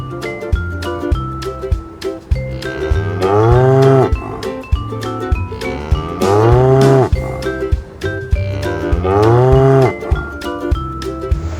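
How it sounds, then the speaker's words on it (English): A cow gives three long, loud moos, one after another with short gaps between them, over a cheerful rhythmic children's tune that keeps playing throughout. "cow."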